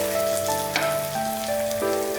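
Ground spices frying in a pan while fish curry is cooked, a steady close crackling sizzle with faint tonal hum lines running beneath, no voices.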